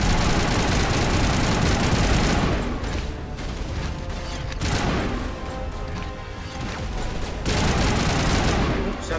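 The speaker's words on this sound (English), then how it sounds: "Oops, I'm shooting the wrong guy" Dense bursts of gunfire and explosions from the video game Mass Effect 2 pour out loud and continuous, easing briefly in the middle before rising again.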